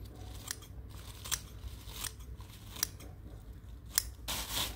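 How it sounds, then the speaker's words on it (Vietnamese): Scissors trim a durian flower cluster on an orchard tree, with a handful of crisp close snips spaced irregularly over steady outdoor background noise. "Mình tỉa sơ sơ lại cho nó tròn đẹp."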